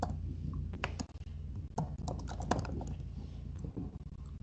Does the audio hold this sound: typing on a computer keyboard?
yes